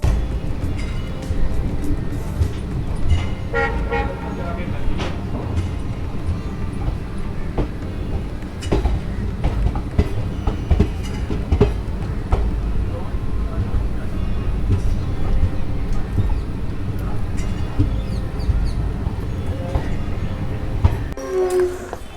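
The Ahmedabad–Jammu Tawi Express runs along the line, heard from inside a sleeper-class coach as a continuous loud rumble and rattle of wheels and carriage, with occasional clanks, steady for over twenty seconds.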